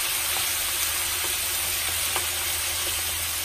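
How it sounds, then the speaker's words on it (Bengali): Chicken pieces fry in a pan with soy sauce, giving a loud, steady, close sizzle that hisses like rain, with a few faint utensil taps and no talking. "প্রথমে আমি একটু চিকেনটাকে ভালো করে ভেজে নেব।"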